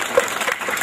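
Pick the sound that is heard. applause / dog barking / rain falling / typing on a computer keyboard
applause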